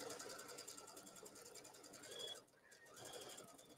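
A sewing machine stitches along the edge of a pressed fold in fabric with a fast, steady whir that eases briefly and then picks up again, quiet and close.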